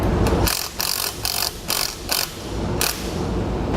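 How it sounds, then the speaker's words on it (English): Wrench and socket ratcheting as hitch bolts are tightened on a Ford Explorer: a loud, close series of quick ratchet clicks in rhythmic bursts, with no talking. "Then we'll use a 5" wrench and socket to tighten those down."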